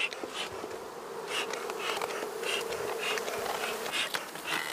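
Honeybees buzz at a beehive in an apiary, a steady, moderately close drone with small swells in loudness and no talk over it.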